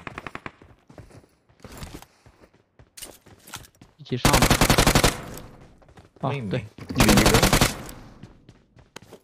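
Automatic gunfire from a shooting video game rattles out in two long, loud, rapid bursts amid scattered single shots, with players talking between the volleys.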